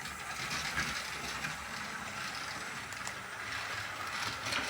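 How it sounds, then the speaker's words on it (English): A glow-in-the-dark toy train with a single locomotive stops and runs in reverse, giving a steady close whirring rattle of small gears and wheels on track, with no talk. "And we'll stop and go into reverse."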